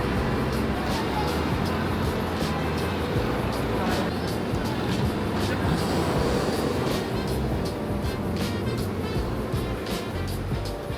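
Steady, loud interior rumble and rushing noise of a cross-border train running from Shenzhen to Hong Kong West Kowloon, continuous throughout with small rattles and no pauses.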